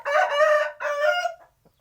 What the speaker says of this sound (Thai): ไก่ใหม่ครับผมใหม่ๆเลยนี่